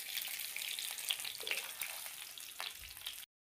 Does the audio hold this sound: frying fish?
yes